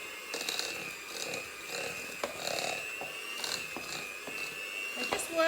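Electric mixer on speed 1 beating cake batter with margarine for a raspberry and coconut slice, a steady motor whine with irregular clicks and knocks of the beaters against the bowl throughout.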